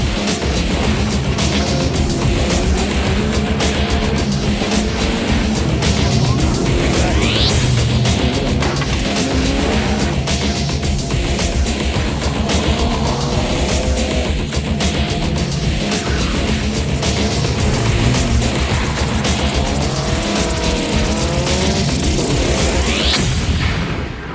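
Rally cars tear along a twisty, exposed island stage at Targa Newfoundland, engine noise loud and continuous throughout with rising and falling revs and occasional bangs as cars pass close by.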